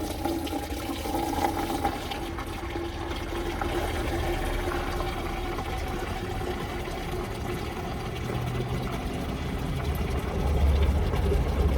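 Water poured outdoors into a container for wild birds, a steady continuous splashing and trickling that runs throughout at moderate level with no talking.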